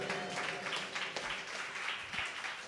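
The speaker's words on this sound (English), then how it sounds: "Give him a round of applause for that, for real" A concert audience applauding at the JV Legacy Concert, a steady wash of clapping that holds throughout without a break, with no clear speech over it.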